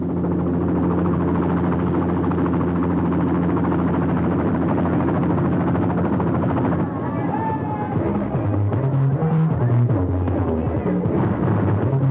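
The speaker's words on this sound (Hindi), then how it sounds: "हेलीकॉप्टर से आप आए?" A helicopter arrives with a loud, steady rotor drone and engine hum filling the whole scene, while a voice speaks briefly near the end.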